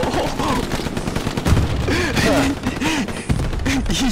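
Bursts of gunfire from a video game crack out repeatedly and fairly loud, mixed with voices of players talking over them.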